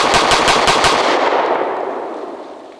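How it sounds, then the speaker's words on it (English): A 9mm Sig P365X pistol fires a rapid magazine dump, about a dozen sharp shots in quick succession within a second, very loud and close, then a long fading echo. "Let's just do a mag dump this time."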